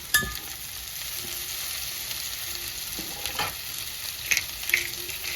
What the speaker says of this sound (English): that red onion that I chopped up earlier, it just, oh yeah, you hear the sizzle?